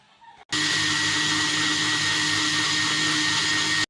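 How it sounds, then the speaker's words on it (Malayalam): An electric blender whirs loudly and steadily for about three seconds, blending a tea shake with cardamom and sugar, then cuts off abruptly. "ഇനി ഇത് ബ്ലെൻഡ് ചെയ്തെടുക്കാം"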